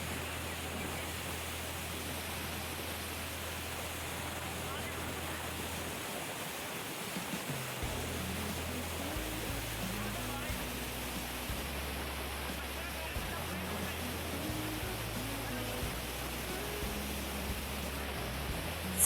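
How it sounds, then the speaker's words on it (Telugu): Hebbe Falls in Chikmagalur pours with a steady, broad rush of water. A low hum runs underneath throughout. "చూసారుగా వాటర్ ఫాల్స్ ఎంత బాగున్నాయో"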